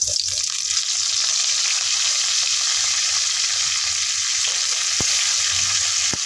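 Curry leaves hit hot oil in a pan for a fish curry, giving a steady, loud sizzling hiss throughout with a few faint stirring knocks and one sharp tap near the end; no talking.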